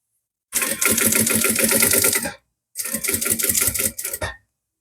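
Sewing machine stitching along an existing seam of a sublimation-print bag, two steady mechanical runs of about two seconds each separated by a short pause, loud and close with no talking.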